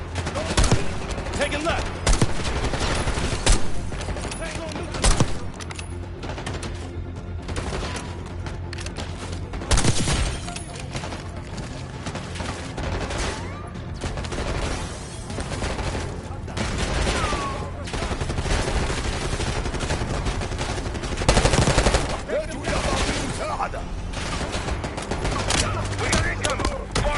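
Dense, loud gunfire rattles nonstop through a Black Ops 6 campaign firefight, rapid bursts and heavier booms overlapping for the whole stretch as a soldier shouts a brief callout over the din.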